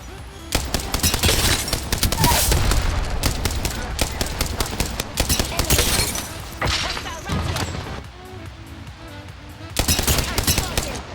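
Automatic weapon fire in the Apex Legends video game, dense rapid bursts of shots with impacts, loud and close, easing briefly before a final burst, with a player talking over it.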